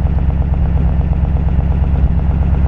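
Exhaust of a running flathead V8 in a 1932 Ford Deluxe sedan, a steady low, throbbing burble with a fast, even pulse, close and fairly loud, with no talking over it.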